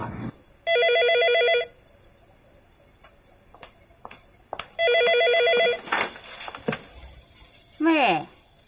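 A telephone rings indoors in a Chinese crime drama, two distinct bell-like bursts a few seconds apart with small knocks and movement between them, followed by a brief voice.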